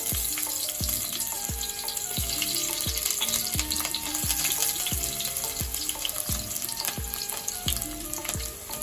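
Finely chopped onion frying in hot oil for Rayalaseema-style borugula uggani, a steady crackling sizzle that runs throughout under a loud rhythmic music track with regular beats.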